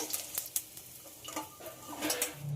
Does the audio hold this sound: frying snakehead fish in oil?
yes